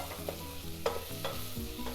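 Prawn and mango curry mixed in a hot pan with a little water, a soft sizzle under repeated utensil scrapes and clinks against the pan, no speech.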